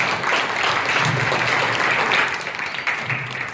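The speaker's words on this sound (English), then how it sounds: "So I think they deserve one more round of applause." An audience applauds steadily for children's camp group leaders at a training camp conclusion ceremony, a full, dense clapping that holds level for several seconds before easing slightly toward the end.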